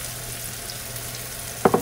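Corn tipped into calabacita frying in a pan: a steady low sizzle runs throughout, then two sharp, loud bursts of crackling erupt near the end as the kernels hit the hot oil.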